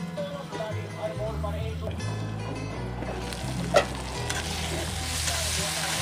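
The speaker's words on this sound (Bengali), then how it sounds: "আর আলুটা ভাজা হয়ে গেছে" Potatoes frying in a pan over a medium flame, a continuous sizzle with scraping stirs and a sharp clink midway, under a person talking throughout.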